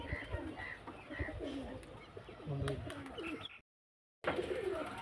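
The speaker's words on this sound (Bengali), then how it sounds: "এই পায়রাগুলো সব দেখুন, খুব সুন্দর সুন্দর কোয়ালিটির পায়রা।" Racing pigeons at a pigeon gathering in Beldanga coo softly and repeatedly close by, with scattered chirps and a brief silent gap near the end.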